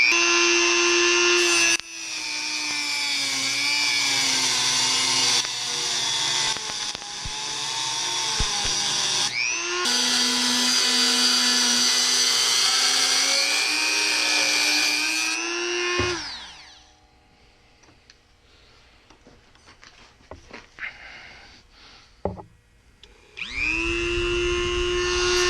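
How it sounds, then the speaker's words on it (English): A power tool whines loudly as it cuts along a metal seam, with long sustained runs that waver in pitch, a pause of clattering and handling noises, then the tool spinning up again. "So what I'm aiming for is cutting right along that seam."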